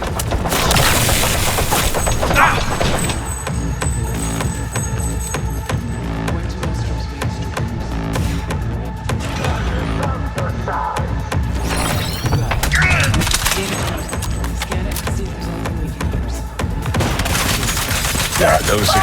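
Sustained gunfire rattles through a firefight in Cyberpunk 2077, dense volleys of loud shots and bursts with crashes and impacts, voices occasionally cutting in beneath the barrage.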